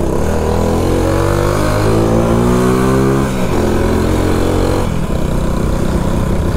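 A Shineray 50cc motorcycle missing its second gear climbs uphill, its small engine droning loud and close, the pitch rising as it revs, then dropping and straining again.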